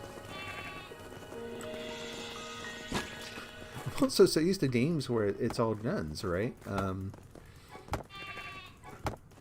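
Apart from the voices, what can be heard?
sheep bleating in Craftopia video game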